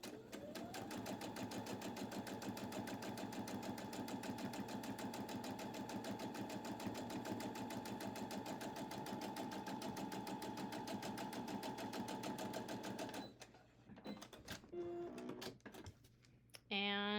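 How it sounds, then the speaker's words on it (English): A sewing machine stitches down the sides and bottom of a fabric box, a fast, even mechanical whir for about thirteen seconds before stopping, followed by a few quieter handling clicks and rustles. "I'm just going to sew down both of these sides and this bottom"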